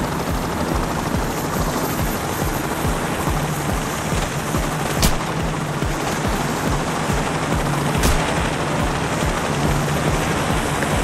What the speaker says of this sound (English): I see a police helicopter.